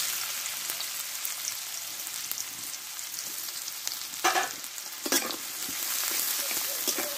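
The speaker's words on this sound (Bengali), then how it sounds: "এবার এই তেলে আমি দুটো মোটা সাইজের পেঁয়াজ আমি কুচিয়ে নিয়েছি, এটা দিয়ে দেবো।" Two large chopped onions frying in hot oil left over from frying potatoes for aloo dum: a steady, close, loud sizzle with a few stirring scrapes and brief louder bursts, no voices present.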